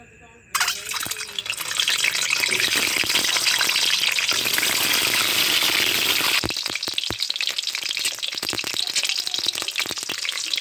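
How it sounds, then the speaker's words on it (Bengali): Eggs dropped into hot oil for an egg and potato curry, setting off a sudden loud, continuous sizzle and crackle that runs steadily with a few clatters and scrapes toward the end. "তেল গরম হয়ে গেছে, এবার ডিম দেব"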